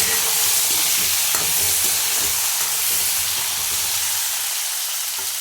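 Potatoes and long beans cut into strips frying in a pan, with a loud continuous sizzle and occasional scraping knocks of stirring throughout.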